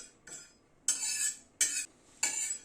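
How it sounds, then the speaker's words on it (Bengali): Whole spices dry roast in a pan over a medium gas flame. A spoon scrapes and rattles them in four distinct stirring strokes with quiet gaps between, no talk. "গ্যাসের ফ্লেমটাকে মিডিয়ামে রেখে মিনিট 2 সময় ধরে মশলাটাকে ড্রাই রোস্ট করে নিলাম"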